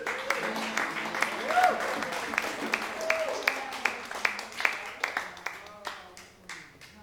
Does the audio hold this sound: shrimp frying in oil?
no